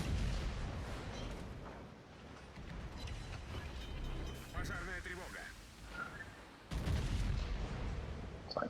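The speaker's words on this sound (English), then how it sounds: "come a little bit more broadside to get all the guns off here" Battleship Sovetsky Soyuz firing its guns broadside in a naval video game: dense booming blasts and rumbling gunfire, with a strong burst near the end, under voice commentary.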